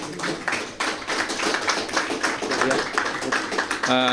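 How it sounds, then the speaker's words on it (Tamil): Audience clapping at a Tamil talk, a dense continuous patter of many hands lasting about four seconds, moderately loud with a faint voice coming in at the very end. "அனைவரும் இதை கேட்டு மகிழ்ந்ததுக்கு கைத்தட்டினதுக்கு நன்றி"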